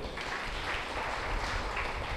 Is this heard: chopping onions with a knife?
no